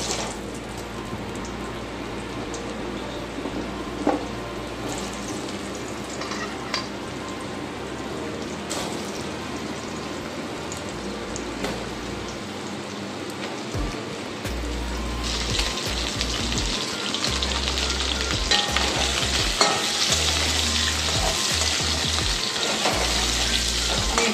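Cut, rinsed potatoes dropped into hot oil already crackling with tempering spices in a Bengali home kitchen, sizzling and frying loudly and steadily, with stirring, growing brighter and fuller partway through; no talk.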